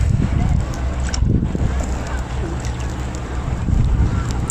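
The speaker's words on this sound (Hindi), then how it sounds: "आप देख सकते हैं कि कितनी तेज़ हवा है" Strong wind on Tuulisaari island buffets the microphone with a constant low roar and rumble, steady throughout, with faint voices beneath it, at an outdoor barbecue with a lit charcoal grill.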